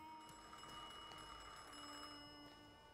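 A telephone rings in the video game The Thaumaturge, a faint, steady metallic bell tone layered over a quiet hum of background game ambience, with no voices.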